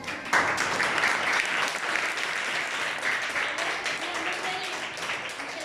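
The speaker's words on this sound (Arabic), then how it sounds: "يلا نعملوا تصفيق على رواحكم" Schoolchildren in a classroom at a public school in southern Morocco applaud themselves in a dense, steady burst of clapping that begins sharply and keeps going at a full, close level, with a few voices mixed in.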